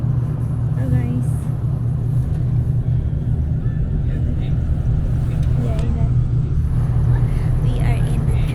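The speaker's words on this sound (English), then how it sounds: "Yeah, we are in the train. We're commuters today." Steady low rumble and hum inside a moving V/Line commuter train in Australia, continuous and close, with faint voices and occasional clanks over the constant drone.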